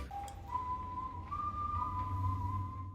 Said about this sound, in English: The wolf whistle was one of those thematic elements where you hear it and you know that he's